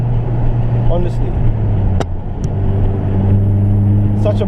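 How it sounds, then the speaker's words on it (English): A Renault Clio RS 197 hot hatch engine hums steadily and grows louder as the car drives past nearby on a B-road, with a few sharp clicks and rattles over the engine drone. "Such a brilliant car, especially for the track."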